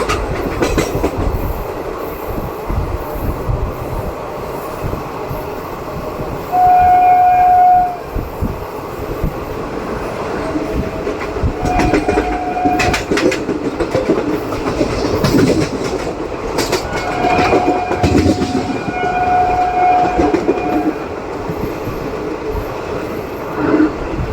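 The Simhadri Express, train 17240 on the Visakhapatnam to Guntur route, runs loudly along the tracks, with a continuous rumble and clickety-clack of wagons and short horn blasts that sound several times over the passing roar.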